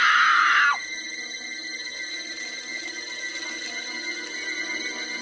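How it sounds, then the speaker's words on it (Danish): A person lets out a loud, high scream lasting under a second, which cuts off abruptly and leaves a steady, quiet background hum. "Men jeg hørte nogen skrige."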